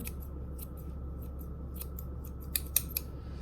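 Grooming scissors snip through a Yorkie's coat in a series of close, crisp clicks, irregular at first and then sharper and louder near the end, over a low steady hum with no speech.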